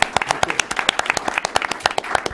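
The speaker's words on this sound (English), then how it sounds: "I think we can all give one more round of applause" A short round of applause from a panel audience at a celebration event, with sharp, uneven individual claps that are fairly close and lively and no voices over them.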